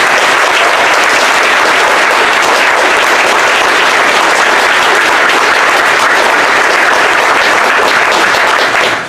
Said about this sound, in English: Maybe by a round of applause, would you like them to talk more about school freedom when they come to church?